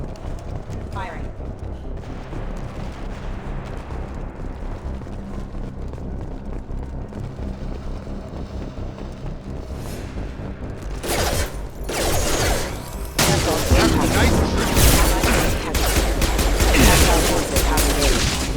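Gunfire and explosions in the game Mass Effect 2 rumble under a steady, loud wash of low noise, swelling into heavier bursts and blasts in the final seconds, with brief voice lines in the mix.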